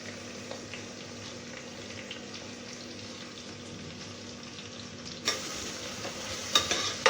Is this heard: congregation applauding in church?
no